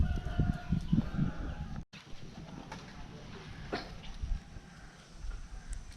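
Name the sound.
chicken crowing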